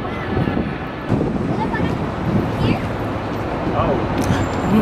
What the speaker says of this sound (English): Super windy.